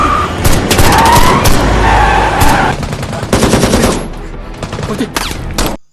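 Gunfire in an action film as elite troops are cornered and attacked, rapid automatic bursts and heavy shots in a dense loud barrage with booming impacts, fading out at the end.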